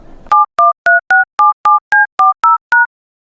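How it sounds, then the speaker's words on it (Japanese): A telephone keypad sounds ten short, loud dual-pitched beeps in a steady rhythm as a number is dialed, close and alone after a brief faint hiss. "早速電話をしてみよう。"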